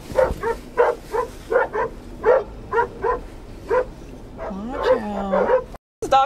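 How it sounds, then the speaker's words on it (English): Dogs bark repeatedly in short, rhythmic yips at moderate distance, with a whining, whimpering note toward the end. "I don't wanna run over these dang dogs."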